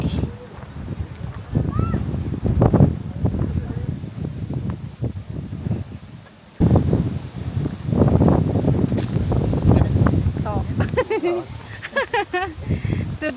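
Wind gusting over an open hilltop during a late-morning hike near Kundasang, buffeting the microphone in loud rushes while people talk nearby throughout.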